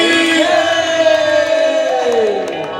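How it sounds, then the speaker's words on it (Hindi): A crowd at a Satnami chauka aarti gathering raises a loud, sustained jaikara chant in praise of Baba Guru Ghasidas, voices held together in one long swelling cry. "एक बार जोर से जयकारा होना चाहिए, दोनों हाथ से ताली बजा के चलो"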